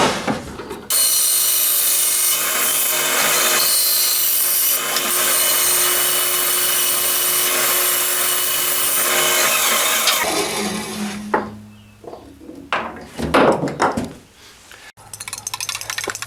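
A power saw cuts a small wooden circle for the head of a Thor's hammer prop, running loud and steady for about ten seconds before stopping, followed by scattered clinks and handling sounds of the workpiece.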